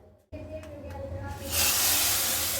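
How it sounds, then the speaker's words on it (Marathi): Hot tempering of cumin, curry leaves and red chillies is tipped into a pot of sambar, setting off a loud, rising hiss of steam after a short quiet sizzle. "फोडणीला तयार झालं की आपल्याला पूर्ण आपल्या सांबारमध्ये टाकायचं आहे"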